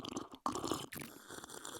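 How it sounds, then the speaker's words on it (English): Close, wet chewing with crunchy bites and smacking from someone eating with an open mouth, alone without talk. "I don't want to hear you chewing."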